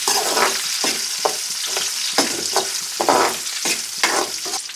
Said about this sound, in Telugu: ఆనియన్స్ గోల్డెన్ కలర్లో వచ్చేలాగా బాగా ఇలా అటు ఇటు తిప్పుతూ